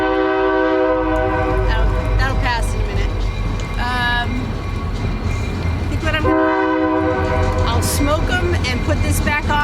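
A train rolls past near an outdoor beehive, a loud steady rumble of wheels with repeated horn blasts sounding over it, while a person talks nearby.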